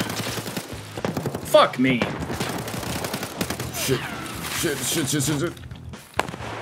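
Gunfire in Escape from Tarkov, a burst of shots and impacts around the middle under excited voices, with talking and swearing running through most of the scene.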